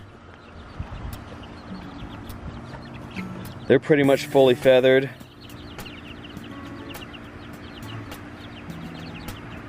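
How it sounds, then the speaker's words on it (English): Phoenix chickens in a backyard flock cluck in a short, close burst of several rapid calls midway through, with someone talking quietly before and after and faint chirps from other birds in the background. "Let's check out the rest of the chickens now."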